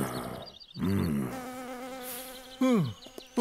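A cartoon bee buzzes in loud, wavering bursts that rise and fall in pitch, close and insistent, with brief pauses between the whines.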